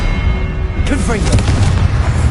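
Confringo blast spell from the Hogwarts Legacy video game: a deep booming burst under a steady low rumble, with a shouted spell incantation layered over it.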